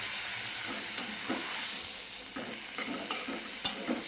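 Boiled black chickpeas are stirred into a frying masala in a pan, with a soft continuous sizzle broken by irregular spoon scrapes and stirring knocks.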